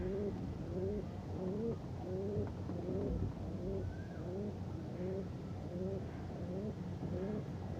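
Pigeons coo in a steady repeated rhythm, soft close calls recurring every second or so, with someone talking over them.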